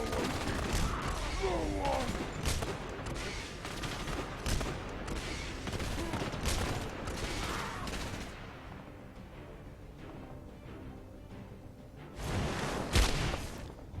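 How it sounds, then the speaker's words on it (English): Police gunfire in the Batman Arkham Underworld video game comes as dense, rapid volleys of shots with whooshes and game effects, thinning out in the middle before a final loud burst. "We are being bombarded by police."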